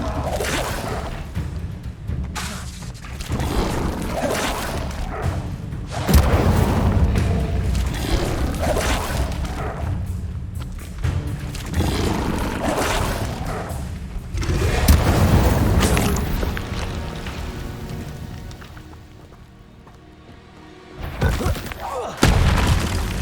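Fire spell blasts in the Hogwarts Legacy video game: a dense run of booming, whooshing bursts and crackling impacts, loud and continuous, briefly dipping before another burst.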